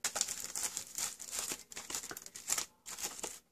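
Cellophane-wrapped envelopes crinkle and rustle steadily as they are packed into a small card box, a close, continuous crackling with brief pauses.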